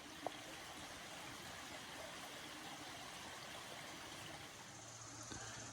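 A creek flows steadily along a trail, a continuous broadband wash of moving water heard close and alone, with a faint click near the start.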